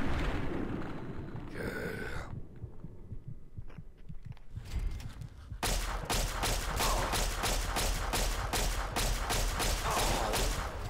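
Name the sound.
gunfire in Fallout 3 video game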